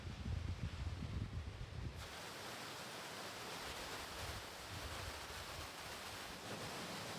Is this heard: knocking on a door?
no